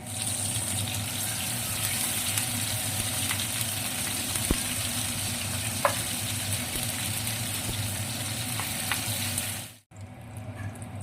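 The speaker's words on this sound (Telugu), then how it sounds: "స్టవ్ మీద ప్యాన్ పెట్టుకొని సరిపడా ఆయిల్ వేసుకొని మసాలా కలిపిన పీసెస్ని 2 వైపులా ఫ్రై చేసుకోవాలి" Marinated mutton pieces fry in oil in a pan, giving a steady, close sizzle with faint crackles, then the sound cuts off sharply near the end.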